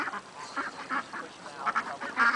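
Several loud, nasal honking calls from waterfowl in quick, irregular succession, close by, with no talking.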